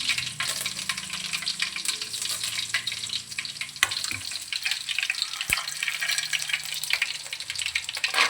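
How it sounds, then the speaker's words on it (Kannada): Mustard seeds splutter in hot oil, a constant crackling sizzle with sharp pops and a couple of clear utensil clicks, close and alone without speech. "ಸಾಸಿವೆ ಸ್ವಲ್ಪ ಪಟಪಟ ಸಿಡಿದ ಮೇಲೆ"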